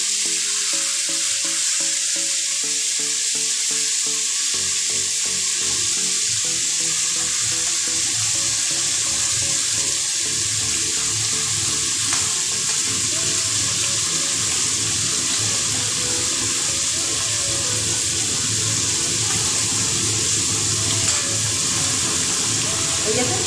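Shredded cabbage frying in a pan for a festival dish, a loud continuous hiss and sizzle that never lets up, with occasional stirring scrapes and brief talk underneath.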